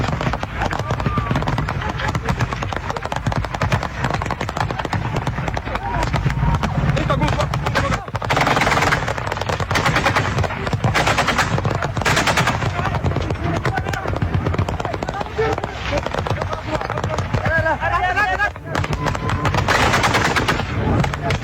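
Gunfire from people shooting during armed conflict in Ambazonia, sustained loud bursts of automatic fire and scattered shots filling the clip, with shouting voices mixed throughout.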